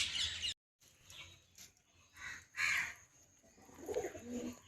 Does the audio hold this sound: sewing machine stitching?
no